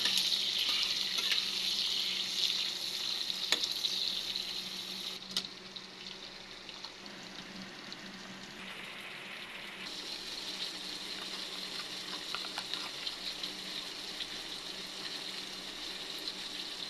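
Onion, chilies and two bay leaves, along with dried red chilies, fry in a wok for liver curry, giving a steady close sizzle that runs through the whole stretch with occasional stirring clinks and no talk.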